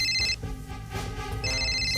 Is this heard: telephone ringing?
yes